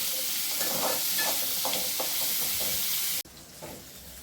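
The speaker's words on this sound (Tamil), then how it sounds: "இது கருவேப்பிலை போடுவோம். கொஞ்சம் அப்படியே வதங்கட்ட முடியும்." Curry leaves dropped into hot oil with onion sauté while being stirred for a bitter gourd kulambu. Their crackling sizzle comes through steadily with soft scraping strokes, then breaks off abruptly near the end, leaving a quieter hiss.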